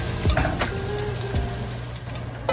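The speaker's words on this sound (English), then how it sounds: "And then we're gonna stir this for about 30 seconds." Dried thyme stirred into a sizzling pan with homemade curry powder, a close steady frying hiss broken by soft scraping strokes of a utensil.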